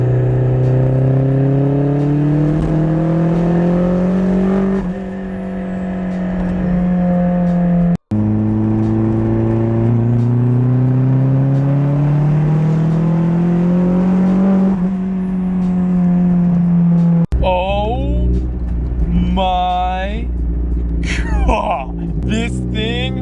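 A turbocharged Mazda Miata engine revs hard and climbs in pitch through repeated gear pulls with boost turned up, loud and close, ending with a whooshing, fluttering release.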